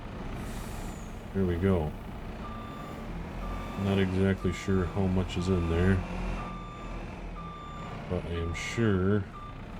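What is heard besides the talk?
truck reversing with beeps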